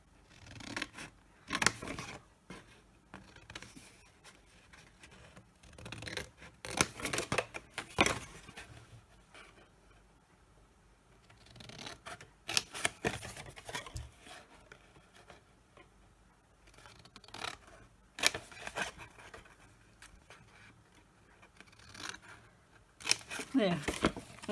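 Scissors cut paper straight up the middle between printed lines for a pagoda-style candle box, giving intermittent crisp snips and rustles with pauses between cuts, close and fairly quiet, with a voice at times.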